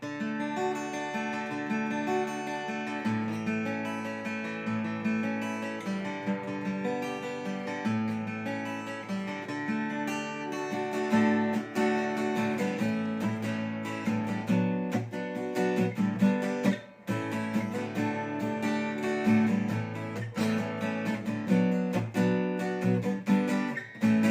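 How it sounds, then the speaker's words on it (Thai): A Martin Lee LS41JF 41-inch acoustic-electric guitar played unplugged, a continuous melodic passage with steady picking, close and moderately loud, with no voices. "อันนี้คือเสียงกีตาร์เปล่านะครับผม"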